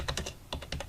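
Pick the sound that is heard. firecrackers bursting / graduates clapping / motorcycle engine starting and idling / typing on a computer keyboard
typing on a computer keyboard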